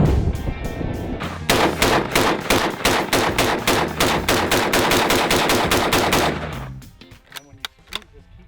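A Mosin-Nagant rifle fires a long string of loud, sharp shots in quick succession at close range, followed by a few sparser, fainter reports as the volley tapers off.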